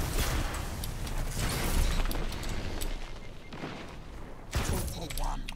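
Hip-fired gunfire in Destiny 2, rapid bursts of shots and booms packed densely with brief pauses, over an excited player's voice.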